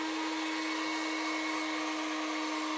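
A heat gun warms EVA foam for a helmet build, giving off a steady, loud, close airy whir that holds constant without a break.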